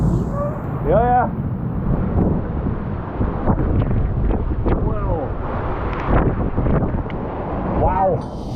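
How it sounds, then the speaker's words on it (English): Strong wind roars across the microphone aboard a Hunter sailboat being sailed in rough seas, a loud continuous buffeting rush with waves beneath, while excited voices shout and exclaim over it. "look at the amount of wind"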